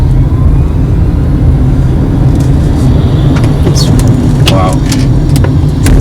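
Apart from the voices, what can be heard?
Tata Tigor EV electric car accelerating at full throttle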